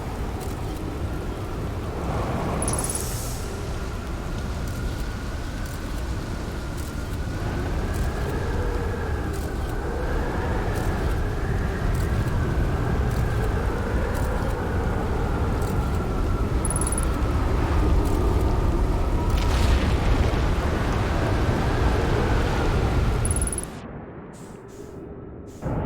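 A storm rages in the video game Outer Wilds: a loud, continuous roaring rush of wind and debris that swells slightly and holds steady, then cuts off abruptly near the end.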